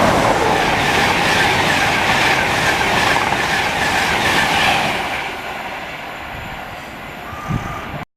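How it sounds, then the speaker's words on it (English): A Class 91 electric passenger train on the East Coast Main Line at Stevenage rushes past close by with a loud, steady roar and rhythmic clatter, then fades away as it recedes. "Now passing through is a Class 91 Virgin Trains East Coast service"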